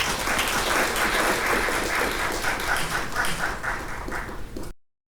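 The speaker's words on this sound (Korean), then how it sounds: "큰 박수 부탁드립니다." Audience applauding at a Seoul city bus policy forum, a dense, even wash of many hands clapping that holds steady and then cuts off abruptly.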